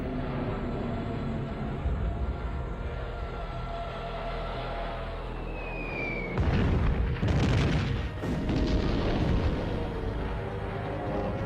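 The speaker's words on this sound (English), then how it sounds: "Hitler orders the bombing of Warsaw" Archival wartime sound of Warsaw under bombing and artillery fire: a dense, continuous rumble of distant detonations and gunfire, growing heavier partway through with louder, closer booms, and no voices.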